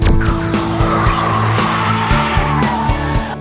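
A Chevrolet Volt on a skidpad cornering test, its tires squealing in a long, steady, loud howl that rises and holds, with rhythmic low thumps and engine rumble underneath.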